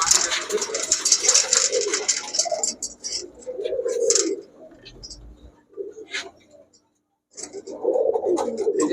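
High-flyer Giribaz pigeons coo in repeated low, throaty bursts close by at a pigeon shop, with a brief quiet gap and some higher chirps and clicks mixed in.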